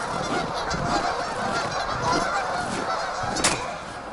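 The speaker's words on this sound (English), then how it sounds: "Thousands and thousands and thousands of geese." A huge flock of thousands of geese honks continuously, a dense, loud chorus of overlapping calls filling the air with no pauses.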